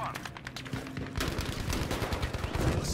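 Dense gunfire in the video game Battlefield 5: rapid machine-gun bursts and overlapping shots crackle continuously and grow heavier midway, with a voice talking faintly under the battle.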